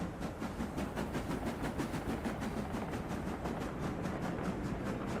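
A locomotive rumbles along in the game Workers and Resources, a steady, even rolling drone with faint rhythmic pulses running through it.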